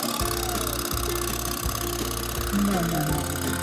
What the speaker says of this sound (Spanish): El barco está calentando sus motores.